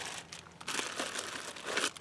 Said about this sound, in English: And another plastic bag, just in case.